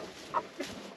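Two brief, soft clucks from a hen, close by, in a quiet setting.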